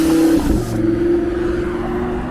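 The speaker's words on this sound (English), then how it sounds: "There's a white Lamborghini." White Lamborghini supercar on a Toronto street, engine note surging loudly then settling into a steady rumble as it passes nearby amid city traffic.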